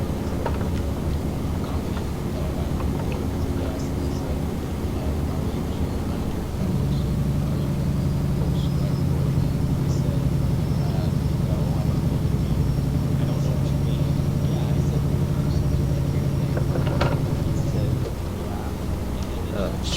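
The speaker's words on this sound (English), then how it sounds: "Probably had the J brake all on then" A Freightliner Argosy truck in Euro Truck Simulator 2 with its engine brake engaged, a steady low rumbling drone that swells midway and holds for several seconds before dropping back, with talking over the engine noise.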